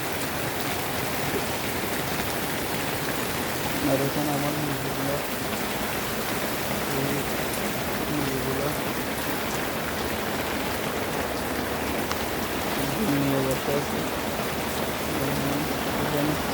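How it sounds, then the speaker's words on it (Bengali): Heavy rain pours steadily outside a poultry farm where chickens are kept, a dense, constant hiss that runs through the whole stretch while someone talks over it. "বাইরে প্রচুর পরিমাণ বৃষ্টি হচ্ছে প্রচুর পরিমাণে বৃষ্টি হচ্ছে"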